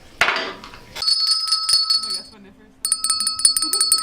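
A small hand bell rings in two bright, sustained bursts with a pause between them, following a short voice at the start of the clip.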